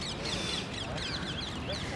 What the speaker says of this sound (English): These geese are very interesting. Very weird looking geese.